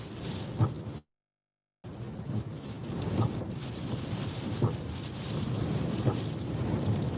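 Hurricane Isaias wind at landfall near Wilmington, North Carolina roars in a dense, rushing wash with heavy gusts and thumping buffets, broken by a brief cutout before building steadily louder.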